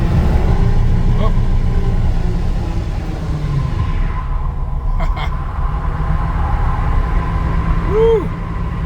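Dodge Charger on 295/50 rear tires spinning on icy snow, a steady loud engine and tire rumble with a rising whine near the end, voices talking over it.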